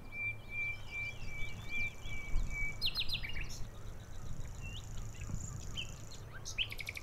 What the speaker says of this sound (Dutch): Als je goed luistert, hoor je de nachtegaal zingen, beneden je in de struiken.